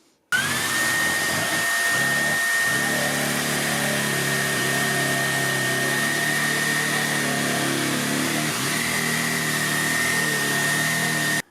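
A Silvercrest SHZK 600 A2 corded 600 W vacuum cleaner with no rotating brush runs on carpet, a loud, steady whine with a high tone that rises as the motor spins up, continuing without a break and no speech.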